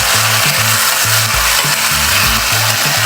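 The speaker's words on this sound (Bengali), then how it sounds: "একটু কাঁচামরিচ দিচ্ছি, দিয়ে তারপরে একটা সুন্দর করে কষাবি" Spice paste with garlic paste and green chilies sautéing loudly in a pan for a Bangladeshi prawn-ball vegetable curry, a constant close, hissing sizzle with faint low tonal hum and stirring underneath.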